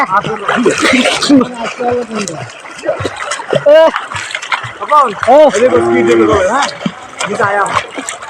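Water splashes as a person ducks under in a river while bathing, with several sloshy splashes mixed through loud, excited voices talking and calling out.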